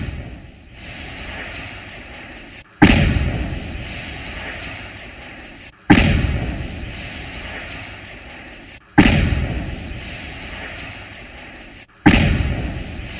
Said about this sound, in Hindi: ये धमाके की आवाज आप एक बार सुनिए।